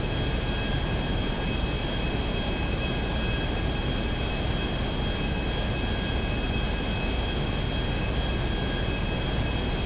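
A military jet in the GTA 5 video game descends to land at an army base, a loud, steady, unbroken engine roar with a high whine running through it, no voices.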